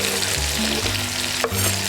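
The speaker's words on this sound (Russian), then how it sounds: "добавляем наши овощи в вок" Vegetables hit a hot wok for an Asian noodle dish and sizzle loudly and steadily up close, with a brief stirring scrape partway through.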